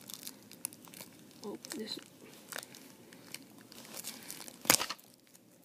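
Packaging being torn open by hand, with rustling, crinkling and a sharp rip near the end, close by, while a person speaks briefly.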